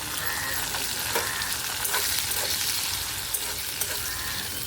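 Chopped onion frying in oil with bay leaf and whole garam masala, a dense steady sizzle that fills the whole clip, close and loud, with faint occasional stirring clicks.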